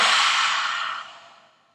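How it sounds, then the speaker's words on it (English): A long, slow exhale after a deep breath during a children's balloon-breathing yoga exercise, a soft airy whoosh that starts fairly loud and fades out steadily over almost two seconds, with no talking. "Sip up that last bit of air, that last bit of oxygen, and let it all out."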